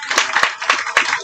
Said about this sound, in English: I think we should definitely keep the applause going.